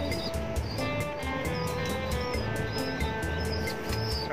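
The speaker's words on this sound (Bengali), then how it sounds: "আর সবচেয়ে প্রিয় কবুতর আমার এটা," Pet pigeons in a home loft chirp, coo and call continuously, a steady layered chorus of birds close by with no talking.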